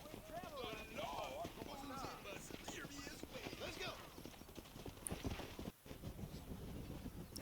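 Horse hooves clip-clopping in the video game Red Dead Redemption, a steady rhythmic trot that runs throughout under continuous talking.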